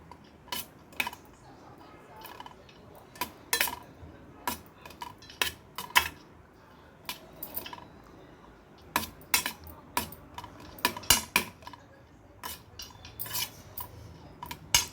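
A spoon mixing oil and turmeric in a metal pot gives repeated sharp clinks and scrapes in an irregular rhythm, close and clear over quiet background.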